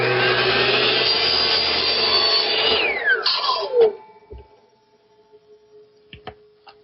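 Miter saw spinning loudly while cutting wood strips against a stop block in a workshop, then the motor winding down with a falling whine and a few clunks and taps as the blade stops.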